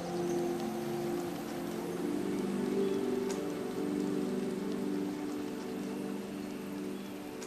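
Rain falls steadily through a forest in a dense, even hiss, with scattered drop taps; the downpour sounds soft and somewhat distant, with no voices.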